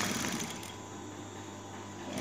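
Sewing machine stitching a patch pocket, a steady close mechanical whir running continuously at moderate level with no voices.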